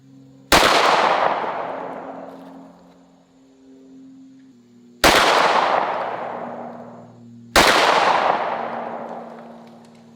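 Three loud pistol gunshots from a handgun with a red dot sight at an outdoor target range, each a sharp crack followed by a long decaying echo, spaced several seconds apart.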